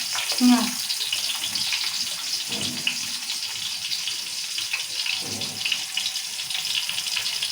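Onions frying in about two tablespoons of oil for a mutton biryani tempering give a steady sizzling hiss, with a few brief clinks and faint voice traces.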